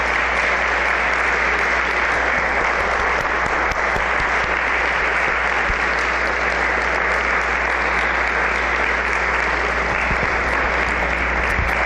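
Sustained applause fills an evening religious gathering, a steady wash of clapping from a large crowd that continues unbroken and loud throughout, with no voices rising above it.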